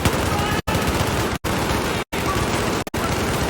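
Sustained heavy gunfire and explosive fusillade fill a Battlefield 4 multiplayer match, a dense continuous roar of shots broken by a few brief silent gaps, loud and close.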